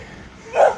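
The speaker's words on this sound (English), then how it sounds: "I can't see you, doggy, but I can hear you." A single short dog bark rings out from a distance, rising sharply out of quiet outdoor background noise.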